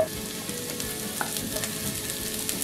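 Courgettes, onions and mushrooms frying in a pan, a quiet, continuous sizzle with faint crackles and occasional soft stirring taps.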